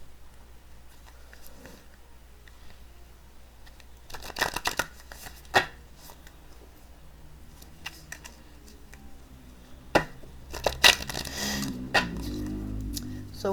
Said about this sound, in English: I'm shuffling them